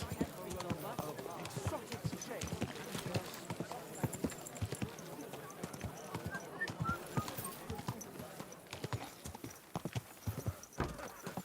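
Rapid hoof clip-clop of a horse in the video game Kingdom Come: Deliverance 2, steady and close, with occasional whinnies and some talk over it.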